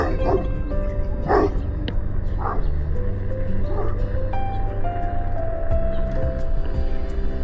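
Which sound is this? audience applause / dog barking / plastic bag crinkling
dog barking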